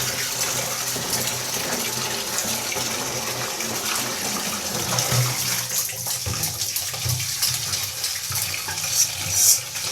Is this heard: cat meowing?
no